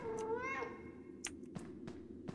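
A cat meows in the video game FNAF Into the Pit, one drawn-out rising and falling meow followed by faint clicks and taps.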